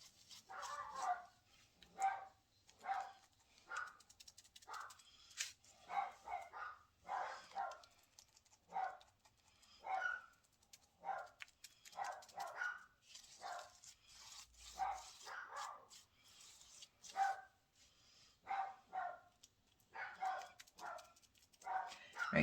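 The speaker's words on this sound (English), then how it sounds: "I'm going to pause this for just a minute and go quiet these dogs up." Several dogs bark steadily in a long run of repeated, fairly distant barks, some yips among them, with no one speaking over them.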